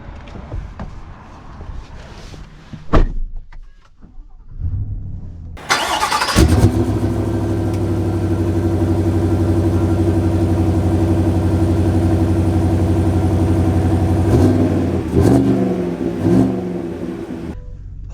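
A 2024 GMC Yukon Denali Ultimate XL with performance exhaust starts up, its engine catching with a rev before settling into a steady, loud rumble that holds for a long stretch, with a few brief rises near the end.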